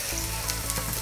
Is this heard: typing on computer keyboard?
no